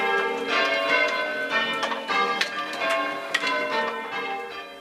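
Village church bells in Woodborough ring out for New Year, a peal of overlapping tolling strokes in a steady cascading rhythm, moderately distant and clear with no talking.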